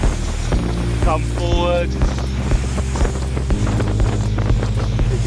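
Majesty 62 motor yacht running at speed, about 25 knots, on a sea trial: steady loud engine drone with wind buffeting the microphone and rushing water, while a voice briefly speaks over it.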